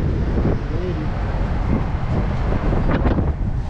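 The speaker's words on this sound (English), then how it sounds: "It's freezing out right now and it's really windy" Strong, freezing wind buffets the microphone in a constant low, blustery rumble outdoors on a road trip in Colorado.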